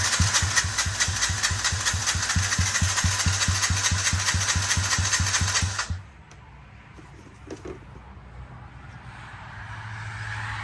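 A Yamaha TTR-50 dirt bike engine idles with a steady, loud, rapid thumping in a garage, then cuts out abruptly partway through, leaving quiet room noise and a few faint clicks.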